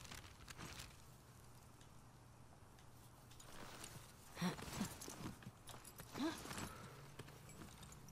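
Horse hooves clopping in the video game The Last of Us Part II, a faint steady background of soft steps with a few louder hoof thuds toward the middle and end, no talking.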